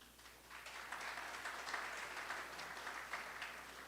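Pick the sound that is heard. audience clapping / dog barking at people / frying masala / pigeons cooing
audience clapping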